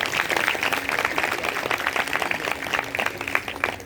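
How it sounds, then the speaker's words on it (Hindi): An audience at a Bhagavat katha gathering claps for Ashoka Garden, a dense, steady patter of hands from a crowd. "एक ताली अशोका गार्डन के लिए आप जरूर दें।"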